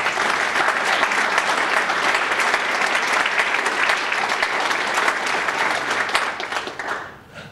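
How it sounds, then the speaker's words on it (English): Sustained, dense audience applause at a mayor's State of the City address, steady and loud for about six seconds before tapering off near the end. "Please join me in giving them all a round of applause."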